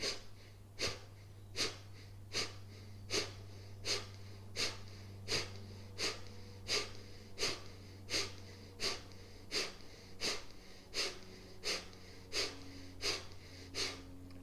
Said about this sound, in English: inhale through the nose, about 2/3 of the way. And then nice sharp exhale as you pull the belly in.